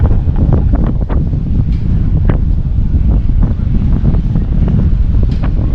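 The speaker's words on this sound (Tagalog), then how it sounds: "Napakalakas ng hangin kaya hindi mo maintindihan." Strong wind on Grand Turk, Turks and Caicos, roars and buffets the microphone without a break, a heavy, rumbling gust noise with no voices heard.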